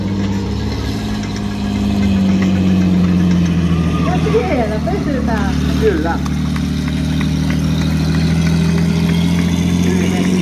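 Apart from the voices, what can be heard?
car engine running during a car stunt show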